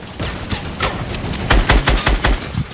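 A turret in the Fortnite battle royale fires a quick run of loud close shots, rising into heavier thumping hits toward the end, with no talk over it.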